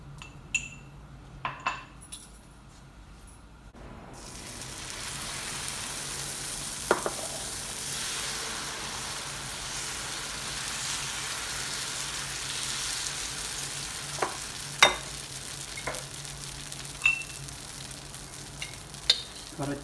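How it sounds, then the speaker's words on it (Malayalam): Soya chunk dosa batter hits a hot dosa griddle and breaks into a steady loud sizzle that continues throughout, with a few sharp utensil clinks scattered on top. "നമുക്കൊരു ദോശക്കല്ലിനകത്തേക്ക് ഈ ദോശ ഉണ്ടാക്കാം."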